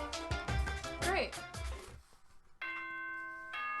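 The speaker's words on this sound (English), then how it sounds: "Ding dong, bing bong." Danganronpa: Trigger Happy Havoc in-game announcement chime, a steady sustained electronic tone sounding clearly after a stretch of louder music and game sounds.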